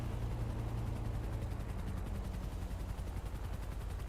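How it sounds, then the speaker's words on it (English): Helicopter in the GTA roleplay game flying overhead, a steady loud rotor drone with rhythmic low thumping that fills the whole moment, no voices over it. "I hear a helicopter."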